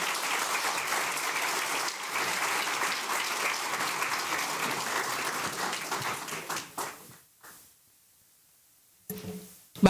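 An audience at a Dominican small-business event gives sustained applause for minister Eduardo Sanz Lobatón, dense clapping that tapers off around seven seconds before a voice returns.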